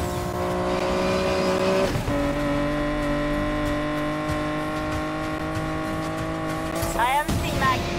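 Racing cars roaring in Need for Speed Payback, sustained high-revving engine drones with gear shifts around two seconds in and a sharp tire squeal near the end, loud and continuous.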